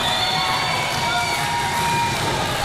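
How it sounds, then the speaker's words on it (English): A packed audience at a 2019 Revolt Pro Wrestling show keeps up a dense, steady wall of cheering and shouting with no break. "You can hear the crowd now. They're starting to get behind Joey"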